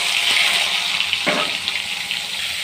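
Onions hit hot oil in a kadai, a steady bright sizzle and hiss running throughout with a brief louder splash of frying partway in.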